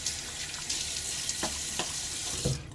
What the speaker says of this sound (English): All right, a little water on my face.